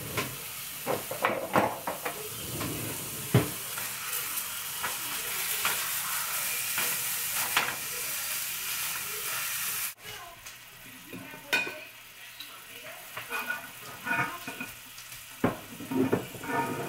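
Steady sizzling and frying on a home stovetop while spaghetti is cooked, with stirring scrapes and occasional clanks of cookware and a cupboard throughout; no talking.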